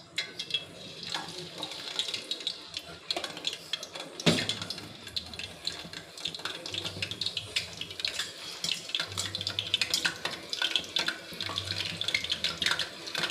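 Sweet mung bean dumplings dipped in batter and fried in oil give a continuous, close bubbling hiss with brief clatters, while a person talks intermittently over it.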